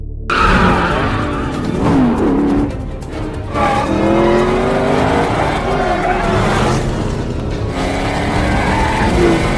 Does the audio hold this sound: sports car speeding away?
yes